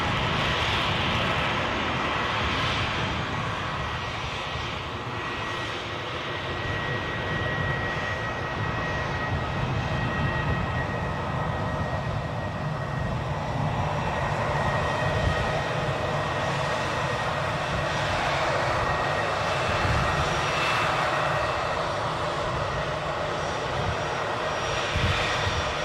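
An easyJet jet airliner at Edinburgh airport produces a steady, fairly distant engine roar that holds on without a break for the whole stretch.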